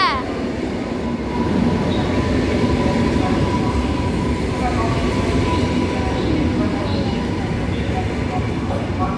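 ED74 Regio passenger train bound for Wrocław at Opole Główny station, a steady close rumble of rail running with faint wheel clatter and some background voices.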